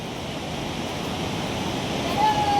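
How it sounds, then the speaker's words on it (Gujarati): Water falls steadily at a waterfall along the Kedarnath trail, a dense, even rushing roar close by. "થોડાક વખત પહેલાં જે પાણીનો અવાજ આવી રહ્યો હતો એ અહીંયાથી આવી રહ્યો છે"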